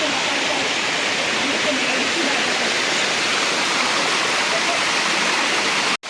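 A mountain stream on Girnar rushes steadily after rain, a dense, even roar of flowing water close by, unbroken until a brief dropout at the very end.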